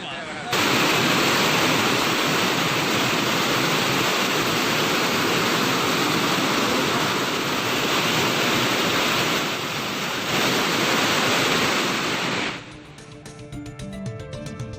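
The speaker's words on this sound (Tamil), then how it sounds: "பொன்னை ஆற்றில் வெள்ளப்பெருக்கு ஏற்பட்டுள்ளது" Floodwater rushing down the Ponnai river after heavy rain, a loud, steady broadband roar of churning water that holds for about twelve seconds before cutting off abruptly.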